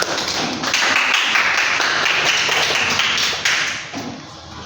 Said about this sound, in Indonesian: Tepuk tangan dulu untuk teman-temannya